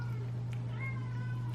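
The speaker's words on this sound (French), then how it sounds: "C'est mon chat. Il aime pas qu'on ferme la porte." A cat meows in short plaintive calls over a constant low electrical hum indoors, fairly faint and without talk.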